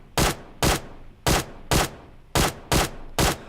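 Seven sharp, evenly spaced single shots from a QBZ assault rifle in PUBG Mobile, fired one at a time in a steady semi-automatic rhythm, loud and close with short decays.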